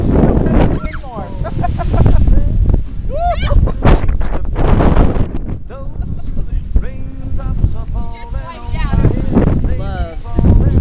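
Strong gusts of wind buffet the microphone outdoors on a windy day, with heavy low rumbling blasts coming and going, while people talk and exclaim over it.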